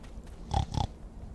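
Pigs in the video game Tales From Hoia Bac give two short, close grunting oinks in quick succession over quiet background.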